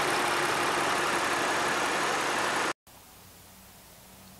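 A Honda Ridgeline pickup's 3.5 liter V6 engine runs with a steady, loud broadband rush, then cuts abruptly to a brief gap and a quieter low idling hum.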